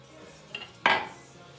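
Arborio rice tipped into a metal pot of water: a faint clink, then one sharp metallic rattle and pour that quickly dies away, close and alone.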